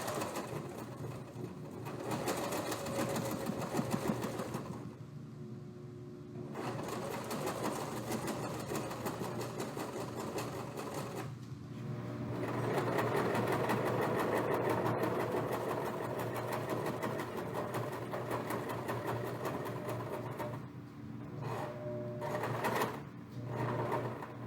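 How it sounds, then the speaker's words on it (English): A home sewing machine stitches fabric during a 4-H sewing lesson as pins are pulled out along the seam, whirring steadily in long runs with brief pauses between passes. "Removing the pins as I sew."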